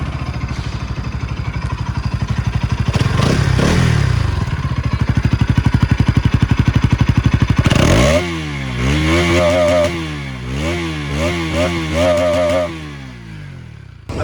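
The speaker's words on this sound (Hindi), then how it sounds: "अब सुनते हैं इसका लाउड एग्जॉस्ट साउंड।" A 2025 Bajaj Pulsar NS200 motorcycle with a loud exhaust idles with a fast, throbbing putter, then is revved repeatedly, its note climbing and falling in sharp blips close by.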